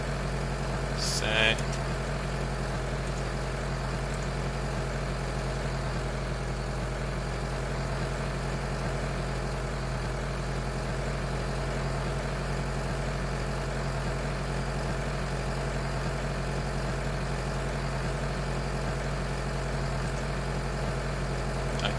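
A tractor engine idles in Farming Simulator 2013, a steady low droning hum that holds evenly throughout, with a brief click early on and a player talking over it.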